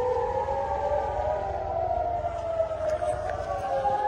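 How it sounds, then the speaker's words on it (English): Air raid sirens warning of incoming rockets, a rising and falling wail carrying from a distance over low background rumble. "we've got the sirens going on and you're supposed to get low, stay by your vehicle"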